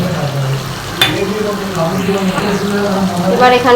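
Chili powder, both regular and Kashmiri, is added to a spice paste frying in a pan for chicken rezala, giving a steady close sizzle with a sharp clatter early on, while a voice talks over it.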